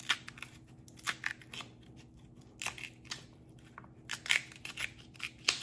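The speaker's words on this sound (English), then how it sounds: "So you just use your knife and you just go under the skin." A knife works under the skin of a cassava root, peeling it off in a run of short, dry scraping and tearing strokes at close range, with no talk.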